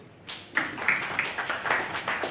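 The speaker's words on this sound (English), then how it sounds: "Please, a round of applause" Audience applause and scattered clapping at a press training event, starting a moment in and continuing as a moderate, steady wash of hand claps with a few sharper individual claps standing out.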